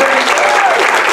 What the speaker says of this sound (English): let's have a round of applause for Robert Holbrook